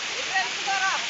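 A waterfall at Kalapata hill drops roughly 200 feet, giving a constant near, even roar of falling water with light whistly tones drifting over the wash.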